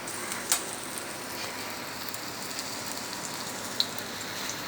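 Potato hash brown frying in a pan, a steady broadband sizzle like light rain that holds evenly throughout, with a couple of brief sharp pops breaking through.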